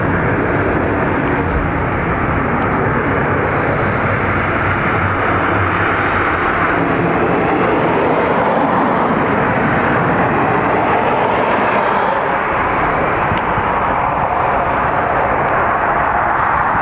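Aircraft landing on runway 10 right at Dublin Airport, a loud continuous broad engine roar heard from nearby, swelling and easing slightly over its length, with no speech.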